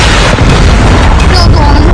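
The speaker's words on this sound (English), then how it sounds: "Friendly predator missile." A predator missile strike in Call of Duty detonates as a loud, sustained booming roar that fills the entire moment, with faint game announcer voices underneath.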